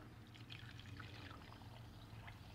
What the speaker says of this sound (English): we're gonna pour about an inch or so of apple cider vinegar down into the trap